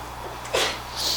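A single short sneeze in a classroom during a maths lecture, one brief burst of breath with a sharp high tail, under a steady low hum.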